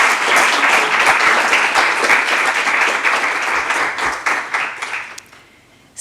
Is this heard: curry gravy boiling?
no